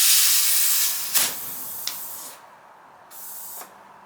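Air hisses steadily from a flat tire on a Wheelman Bushpig motorized skateboard, a loud continuous rush that briefly spurts and cuts off, then resumes more quietly.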